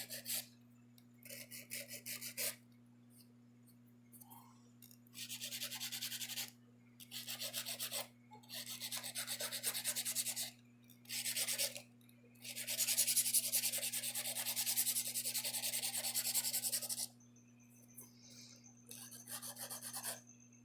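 Acrylic nails filed with a nail file over a real snakeskin shed, giving repeated close, raspy back-and-forth strokes in bursts of a few seconds with short pauses, over a faint steady background hum.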